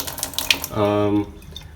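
Water runs briefly from the filtered tap of a Xiaomi water purifier, a short steady gush that starts after a few light clicks and stops abruptly, close and clear.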